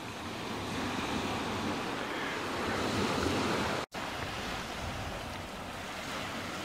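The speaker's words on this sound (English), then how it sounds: "I'm copping a bit of breeze here and a bit of swell" Breeze and sea swell at an island anchorage off a sailing boat, a steady broadband rush of wind and surf, fairly quiet and continuous, with a brief dropout near the middle.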